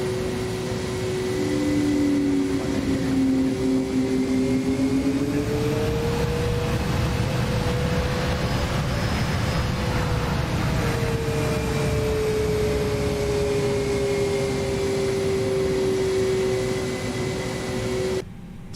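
A Toliss A321neo with an add-on sound pack in X-Plane 11 during a brake check: a continuous airliner cabin drone with a whining hydraulic tone that slides in pitch, steady throughout with no talking.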